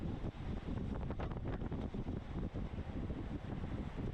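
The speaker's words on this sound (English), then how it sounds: "the wind's coming a little bit off the right" Wind buffets the microphone on an exposed stretch of a masters bicycle road race in California, a steady, low, roaring rush with small gusty flutters that lasts throughout.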